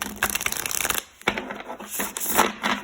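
Tarot cards riffled and shuffled in quick bursts, crisp and close, with a short pause between two rounds of shuffling.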